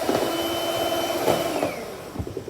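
An electric hand mixer whips egg whites with cream of tartar added, giving a close, whirring motor buzz that fades toward the end, with clattering against the bowl.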